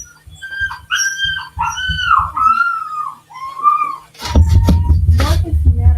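A puppy whimpers and whines in a series of high, wavering cries close by, followed by thumps and rustling movement.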